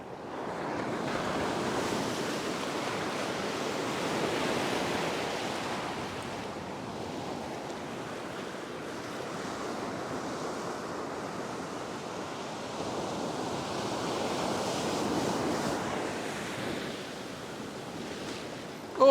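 Ocean waves break and wash steadily onto a beach during a fishing session, a broad continuous roar swelling and easing in long surges, with wind buffeting the microphone and no voices.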